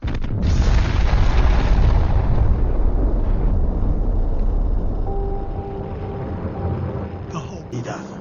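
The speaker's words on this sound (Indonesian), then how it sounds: "Ketika bom akhirnya diledakkan" Atomic bomb detonation in the film Oppenheimer, a huge sustained roaring boom that starts abruptly and slowly fades into a low rumble, heard on its own.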